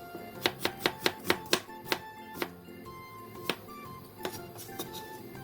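Half an onion sliced into thin strips with a knife on a cutting board: a quick run of crisp, evenly spaced chops, then slower, scattered cuts, close and clear, with no talking.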